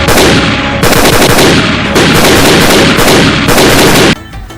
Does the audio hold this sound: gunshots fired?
yes